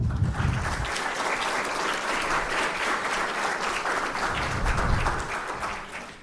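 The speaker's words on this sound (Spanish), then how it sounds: "demos la bienvenida al doctor Sergio García Ramírez con un fuerte aplauso" Sustained applause from a crowd, steady and fairly loud throughout, with no speech over it.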